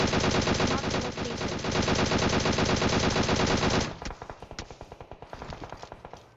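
An M4 rifle in PUBG Mobile fires in dense, rapid automatic bursts, loud and continuous at first, then breaking into slower, separate shots that fade as the firing thins out.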